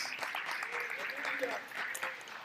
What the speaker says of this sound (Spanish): ¿Le damos un fuerte aplauso a las esposas?